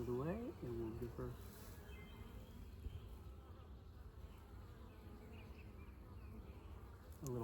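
Honeybees at an open resource hive buzz in a dense, steady, close drone throughout, with a voice speaking faintly over them at the start.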